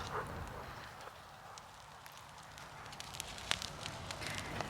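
Wood burns in an outdoor bonfire, giving a soft steady hiss with faint, scattered crackles and pops close by.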